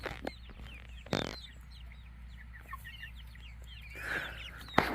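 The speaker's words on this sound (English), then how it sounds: "These are our golden Wyandotte chicks, for anybody who don't know." Golden Wyandotte chicks cluck and peep in a steady scatter of small chirps and trills close by, with a few louder thumps and rustles breaking in, and no talking.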